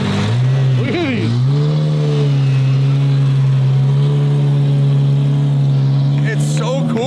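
A rebuilt Ferrari V12 with straight pipes drives hard, a loud, raw engine drone holding steady after a quick rev and dip near the start, with another rise at the end.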